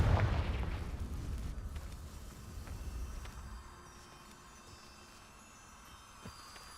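Confringo blasting spell going off in a video game: a deep booming explosion at the start that slowly decays into a long rumbling, hissing tail, with faint game ambience after.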